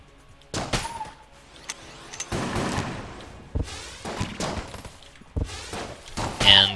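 Blunderbuss charge weapon firing in The Gungeon, a run of loud game gunshot bursts with sharp thuds and rattling impacts spaced irregularly over a busy game soundtrack.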